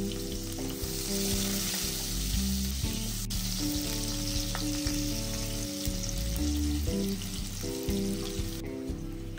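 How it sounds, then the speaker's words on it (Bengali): Chopped onions fry in oil in a wok, a steady close sizzle and crackle running the whole time, with soft stirring scrapes now and then and no talking. "প্রথমে কড়াই আরও কিছু পরিমাণ তেল যোগ করে এতে কুচি করে রাখা পেঁয়াজগুলো দিয়ে পেঁয়াজগুলো ভেজে নিব।"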